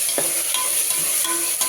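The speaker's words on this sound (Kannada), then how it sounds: "ಚೆನ್ನಾಗಿ ಮಿಕ್ಸ್ ಮಾಡಬೇಕು." Tomatoes sizzle in hot oil in a pan for dal khichdi while a spoon stirs them, giving steady close frying hiss with a few scraping strokes and no talking.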